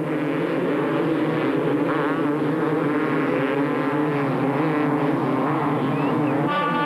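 A pack of 250cc motocross bikes roars off the start of a 1996 Grand Prix race in Tibro, Sweden, engines blaring together in a steady, dense drone with rising revs layered on top, loud and continuous throughout.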